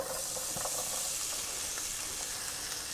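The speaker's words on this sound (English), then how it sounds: "I'm going to go ahead and place my onions in." Onions sizzle in melted butter in a pan for a broccoli, rice and cheese casserole: a steady, close frying hiss with small crackles and pops throughout, heard alone with no talk.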